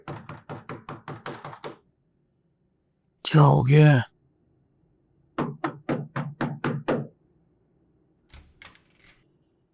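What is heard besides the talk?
knocking on a door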